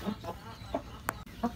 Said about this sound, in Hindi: सामने हमारा ये थाई क्रॉस का मुर्गा आ गया